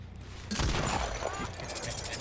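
Deathslinger's gun firing in the Dead by Daylight video game, a sudden sharp blast at about half a second followed by a noisy ringing tail and scattered game sounds, with a voice briefly present.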